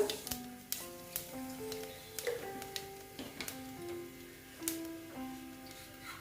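Nigella seeds sizzle in plenty of hot oil in a pan, giving a faint, crackling fizz with scattered sharp pops and ticks over a quiet kitchen background.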